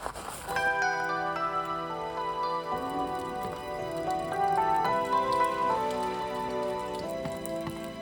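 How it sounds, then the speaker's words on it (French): Steady light rain pattering on leaves and ground in a forest near Kyoto, a soft continuous hiss of drops with some tonal ringing layered over it. "Il pleut un petit peu"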